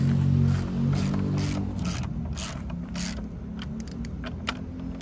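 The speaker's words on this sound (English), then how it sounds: "Then you come on this side and tighten your caliper back up." Caliper bolts on a Can-Am Ryker 900 Sport are tightened with a ratchet, giving steady close clicking pawl ratchets with a low mechanical hum underneath, alone for several seconds.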